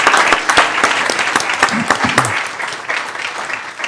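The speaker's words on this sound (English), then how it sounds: "Will you please give all of them a round of applause?" Loud, dense applause from a city council meeting audience, many hands clapping continuously and gradually easing off, with a brief voice murmuring beneath it.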